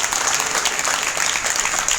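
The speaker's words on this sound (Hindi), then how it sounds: "एक बार जोरदार तालियां" Dense, steady applause from an audience honouring Kamlesh madam, a wheelchair-using teacher recognised by the President, filling the room loudly and evenly without pause.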